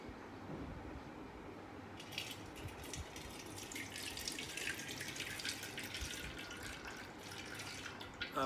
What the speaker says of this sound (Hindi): थोड़ा सा पानी इनके ऊपर चलाएंगे हम।